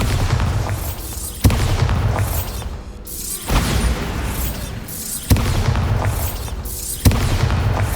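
Bombarda explosion spells from the video game Hogwarts Legacy go off as four heavy booming blasts at fairly even intervals, each one loud with a rumbling tail.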